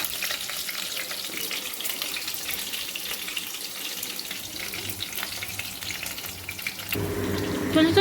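Capsicum frying in a pan produces a steady, close crackling sizzle that continues throughout, growing a little louder near the end, with no talking.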